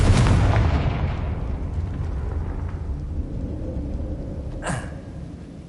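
A Confringo explosion spell in Hogwarts Legacy bursts with a deep, booming blast that rolls off into a long rumbling decay, then a short crackling flare near the end.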